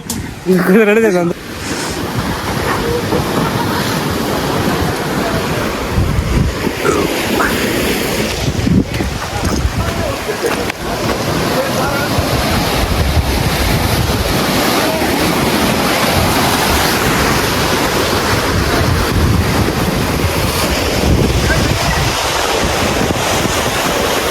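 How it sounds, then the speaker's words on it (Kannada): Surf at Om Beach on the Gokarna coast, a continuous broad wash of breaking waves with heavy wind buffeting the microphone, loud and close throughout. "ಇಡೀ ಸಮುದ್ರನ ಉಪ್ಪು ನೀರು ಐತಿ"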